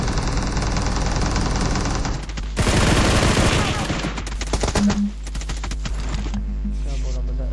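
Rapid automatic gunfire in a battle royale video game, with dense sustained bursts and fusillades that stay loud and continuous throughout, plus brief pauses and tonal in-game sounds near the end.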